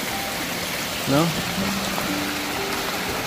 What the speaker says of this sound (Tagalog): At ulan na dito, guys.